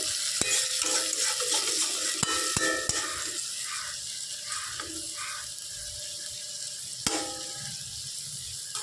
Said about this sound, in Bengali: এবার সামান্য এক ছিটে জল আমরা দেবো, যাতে মশলাটা তলা থেকে ধরে না যায়